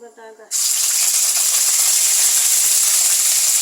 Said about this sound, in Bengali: তাহলে ফোড়ন দিয়ে দিলাম।